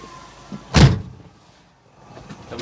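A door on a 2015 Suzuki Carry pickup swings shut with one solid thump near the middle, close by, with quiet cabin room tone before and after.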